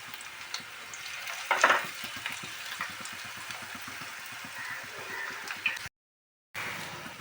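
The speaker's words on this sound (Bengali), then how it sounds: "এবার আমি পকোড়াগুলো একটা একটা করে ফ্রাই করব।" Malabar spinach pakoras fry in white oil over a medium gas flame, a steady close sizzle with soft crackles and a brief louder spatter, then a short silent gap before the sizzling resumes.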